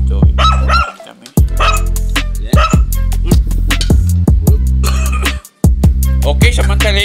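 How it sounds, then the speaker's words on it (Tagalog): Dog barking loudly and close, a quick run of sharp repeated barks and yips with brief pauses between bursts. "Si Doggy, kasama na si Doggy"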